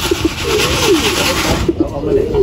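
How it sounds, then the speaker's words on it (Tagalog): Racing pigeons at a loft, a checkered bird arriving first during a race in Candon, Ilocos Sur, with repeated soft cooing and wing rustles close by, a voice speaking over them. "Dumating yung kalapati natin."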